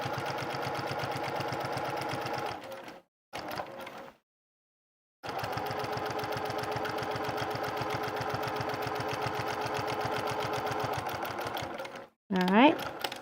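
A sewing machine runs in close, fast, even bursts while stitching a quilted jacket lining in place, pausing briefly twice before a long steady run.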